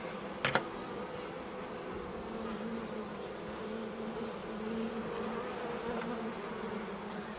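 A honeybee swarm hums steadily and closely throughout a hive inspection, a dense continuous buzz with one brief sharp click near the start.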